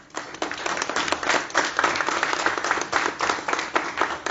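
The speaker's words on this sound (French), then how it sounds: "et on peut l'applaudir, Jean-Michel Picarda" A crowd applauds a competitor at an adaptive flying competition's novice-course finals in a zero-gravity test setting, with steady, dense clapping sustained throughout and moderately close.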